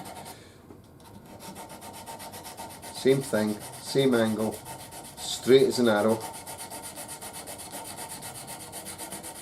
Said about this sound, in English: I'm not used to sanding this way